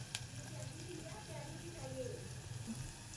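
Onions frying gently in a little oil for pizza sauce, a soft steady sizzle under a voice speaking over it.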